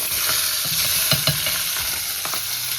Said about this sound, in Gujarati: મરચાં મૂકી દીધા અને છે ને તેલમાં જ ફેરવવાના છે.